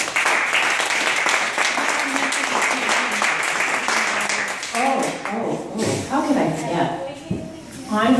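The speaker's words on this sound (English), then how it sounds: "let's another applause for Glenda." Audience applause at a culinary celebration event, a broad steady clapping wash for most of the clip, with talk and cheering voices emerging over it toward the end.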